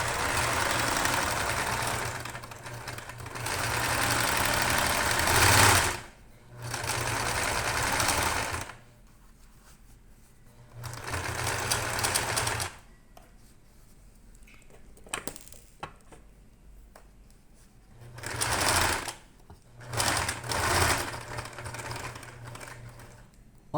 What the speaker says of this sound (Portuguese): Aí você tira essa base e aí a gente vai fazer a costura da volta inteira.